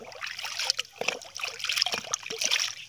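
Fertilizer being stirred into water for bitter gourd plants: irregular liquid trickles and small splashes with scraping stir strokes, close and moderately loud, with no talk.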